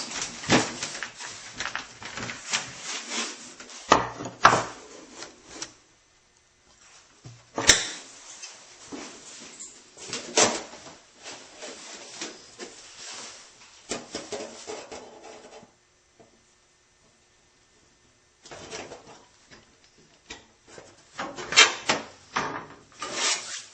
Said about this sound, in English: anytime you're cutting on a line, you're really going to scratch the metal up to the right side